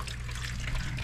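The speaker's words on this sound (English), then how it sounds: "There's water just coming down, pouring through there." Water leaking through a ceiling below a clogged bathroom shower drain, pouring down steadily with a broad hissing splash that stays continuous and fairly close for the whole moment, with no voices.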